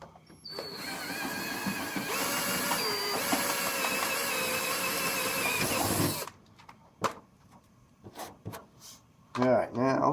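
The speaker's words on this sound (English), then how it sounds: "I'm going to drill from this side." A power drill re-drills holes through a rudder pedal, a steady whining buzz running about six seconds, then stopping for brief clicks, handling noises and a voice speaking.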